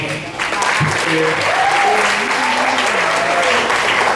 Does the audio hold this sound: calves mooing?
no